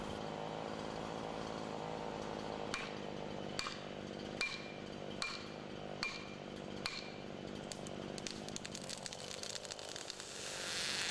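Jonsered chainsaw running steadily through a felling cut in a standing tree, a continuous buzzing engine drone with a series of sharp metallic clinks or taps recurring roughly every second, close and moderately loud.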